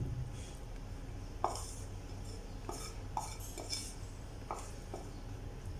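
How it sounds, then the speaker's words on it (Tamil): Egg being mixed with pepper and vegetables in a bowl, with a utensil clinking and scraping against the bowl in scattered, uneven strokes, quiet and close with no talking. "இதெல்லாம் சேர்த்து நல்லா மிக்ஸ் பண்ணிக்கோங்க"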